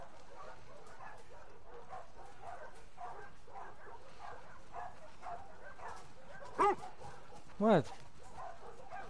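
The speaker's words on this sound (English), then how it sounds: "Can I just stay here and play with the dog?" A dog in the video game The Last of Us Part II gives two brief, whimpering yips late in the clip, set against steady game ambience while a person talks throughout.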